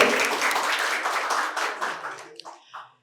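Audience applause rises at a quiz competition held at Santiniketan Medical College and Hospital, a dense burst of many hands clapping for over two seconds before tapering into a few final claps.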